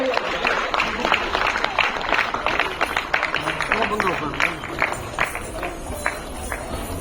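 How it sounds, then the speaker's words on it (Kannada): Applause breaks out for a child being called on stage to receive the Karnataka government's Bala Gaurava award, a crowd clapping steadily and fairly close while a voice speaks over it. "ಎಲ್ಲರ ಜೋರಾದ ಚಪ್ಪಾಳೆಗಳ ಮೂಲಕ ವೇದಿಕೆಗೆ ಆಹ್ವಾನಿಸ್ತಾ ಇದ್ದಾರೆ"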